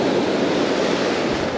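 Ocean waves break on a windy beach during surf fishing, giving a loud, continuous roar of surf mixed with wind buffeting the microphone, with no talk.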